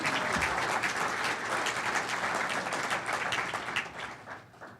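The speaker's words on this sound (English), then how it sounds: "Come on, let's give it up for University of Illinois." A live audience at a University of Illinois statewide emergency exercise opening breaks into sustained applause, a dense wash of clapping that holds steady for several seconds before tapering off at the end.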